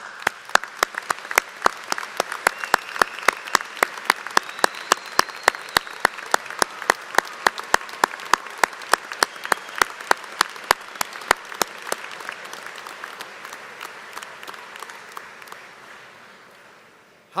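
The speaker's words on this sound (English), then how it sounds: "I would ask that all of us give them a big round of applause, along with the graduates as well" A crowd claps steadily at a 2017 Holland High School graduation ceremony, with sharp, regularly repeating nearby claps standing out over the broad applause before it fades away at the end.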